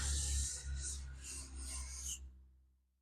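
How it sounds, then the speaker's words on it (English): Stanley No. 80 cabinet scraper drawn across a wooden surface, a close, raspy scraping of several quick strokes run together, ending abruptly and fading to quiet. "That's all there is to using a cabinet maker scraper."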